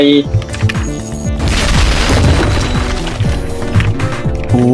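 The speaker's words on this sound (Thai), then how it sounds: "ระเบิดซะ" Video game explosions from a 2v2 ranked match, a dense burst of booming blasts and gunfire-like crackle building to a loud roar in the middle, with rapid hits and thuds throughout and a voice talking over it.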